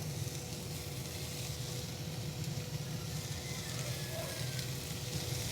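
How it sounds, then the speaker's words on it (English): Portuguese sausage sears in a pan on medium-high heat, giving a steady, soft sizzle that stays even throughout with no talk over it. "So I'm gonna throw my Portuguese sausage in here."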